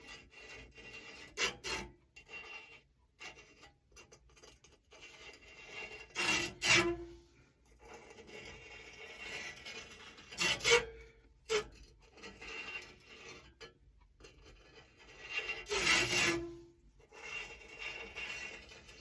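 Lapping compound grit grinding between the blades of a push reel mower, a gritty rasping scrape in uneven strokes with several louder bursts, close and quiet with no talking.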